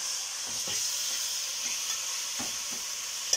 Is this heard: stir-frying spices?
yes